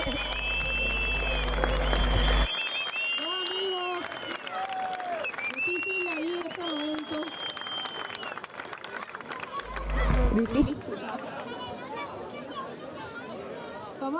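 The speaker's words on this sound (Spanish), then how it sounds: "Un aplauso gigante para los dos brasileros, Uri Valadão y Gabriel Braga, que comparten el tercer lugar" An audience at a frontón tournament finals day in Gran Canaria applauds two Brazilian third-place finishers, with clapping and crowd chatter under a loud announcer's voice, then a burst of cheering near the end.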